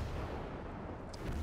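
A tank gun fires in Armored Warfare with a deep, rumbling low boom that rolls on and fades over a second or so, heard alone without speech.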